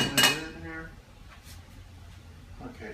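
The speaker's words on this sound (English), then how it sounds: "you're going to cover this up with a lid" A lid goes on over a dish of baked ziti with one bright, ringing clink right at the start, followed by quieter rustling handling and a voice speaking faintly nearby.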